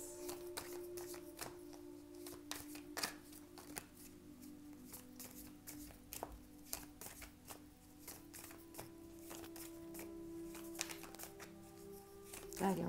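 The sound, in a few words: shuffling and drawing oracle cards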